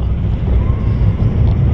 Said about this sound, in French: Ah, il y a un peu de vent.